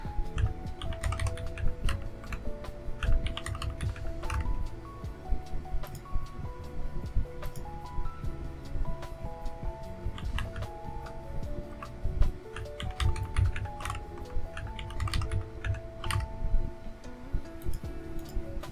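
Rapid keystrokes on a computer keyboard as a root password is typed during a Mandrake Linux 9.0 install on an Athlon XP 3000+ system, clicking steadily and close up over a low machine hum, with no talking.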